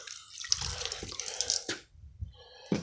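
Water from a tap or container splashes onto a soapy car wash mitt, a close, continuous gurgling pour with small drips, alone without talk.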